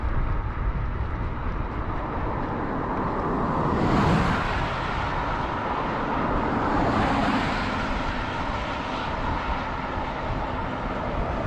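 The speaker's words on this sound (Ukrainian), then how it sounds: "багато машин, шум, гам." Highway traffic roars past a cyclist riding near Hoshcha in Ukraine. A continuous rumbling wash of vehicles is broken by two louder pass-bys that swell and fade, with no talk.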